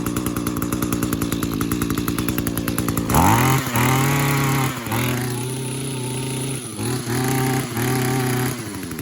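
An Echo string trimmer's small two-stroke engine needing carburetor work chatters at a fast idle, then revs up and drops back several times in uneven bursts, loud and close, with no talking.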